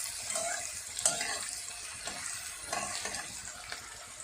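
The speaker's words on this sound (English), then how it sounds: "I am going to fry and then I am going to add into it" Vegetables frying in oil in a pan for bisibelebath, a close, soft, continuous sizzle with light stirring scrapes and a few brief clinks.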